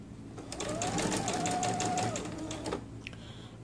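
A sewing machine stitches fabric, sewing a prayer-garment piece in one continuous run of rapid, even needle clatter lasting a couple of seconds before stopping, quiet and close, with soft talk around it.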